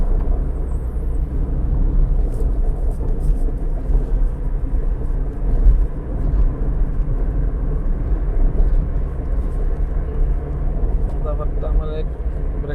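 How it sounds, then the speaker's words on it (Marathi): A car driving by road from Mumbai to Diveagar on the Konkan coast of Maharashtra: a steady, loud, low engine and road rumble throughout, heard from inside, with a voice talking over it. "चालक आहे गाडी चालवतोय"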